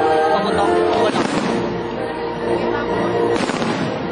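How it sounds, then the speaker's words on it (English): Fireworks display at the SM City Clark Pyrofest, with rapid crackling bursts and booms that rise in two dense volleys over a crowd's background murmur. "Best fireworks?"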